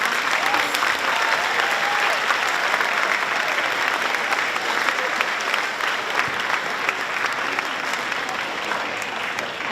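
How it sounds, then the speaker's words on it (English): An assembly audience at a school leaders induction claps for the outgoing prefects, sustained dense applause that carries on strongly for the whole stretch, with faint voices mixed beneath it. "I would like to have one last round of applause to thank our outgoing prefects"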